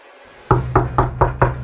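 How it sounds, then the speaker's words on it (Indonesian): Five loud, evenly spaced knocks on a door, heard close with a hollow thud and no talking. "saya akan mengetuk dalam 3, 2, 1, ya"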